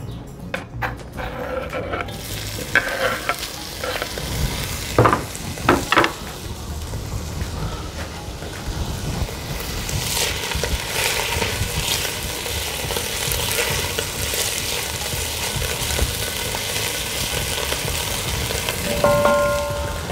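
Bacon frying in oil in a pan, a steady sizzle running throughout with occasional sharper scraping stirs and clanks of the utensil near the start and around the middle.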